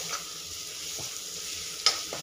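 Tomatoes and tomato puree cooking in a kadhai, a steady low sizzle and bubbling with a few faint stirring scrapes and one brief louder clink, heard close.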